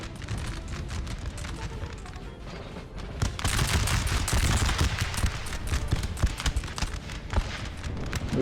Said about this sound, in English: Austrians are busy firing on the French